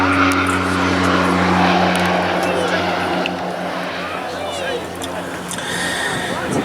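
A North American Rockwell OV-10B Bronco twin-turboprop at an air festival, its engines giving a loud, steady drone with strong low tones that ease slightly partway through, under a faint background murmur.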